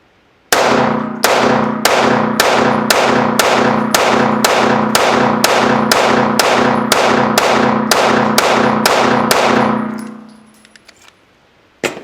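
A Staccato HD P4 2011-style pistol fires at a shooting range: about sixteen loud, sharp shots in a steady, rapid rhythm, each with a brief ringing tail, then silence.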